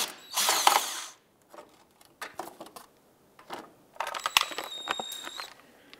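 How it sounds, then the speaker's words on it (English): A power driver with a T27 Torx bit backs out splash shield screws on a 2011-2019 Ford Fiesta, giving a loud whirring burst followed by scattered clicks, ratcheting and a second rattling run, close up. "We're going to use our T27 Torx bit to go ahead and remove these two screws here."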